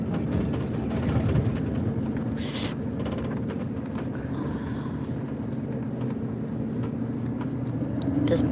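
Inside a moving bus, a steady low rumble and rattle of the engine and road noise fills the cabin, with a brief louder burst partway through and occasional faint clatter.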